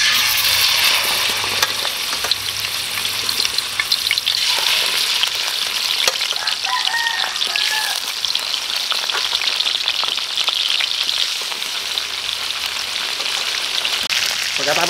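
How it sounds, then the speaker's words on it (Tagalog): Chicken frying in a pan for chicken pares gives a loud, steady sizzle and crackle of hot oil, with faint stirring scrapes underneath and no talking. "Piprituin lang po natin ito."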